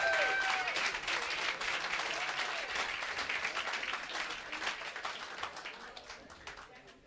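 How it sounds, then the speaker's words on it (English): A crowd applauds for a bank sponsor at a girls' school rowing regatta, dense clapping starting strong and slowly tapering over several seconds, with faint voices underneath. "if we can just give Standard Bank a round of applause for their support for the event"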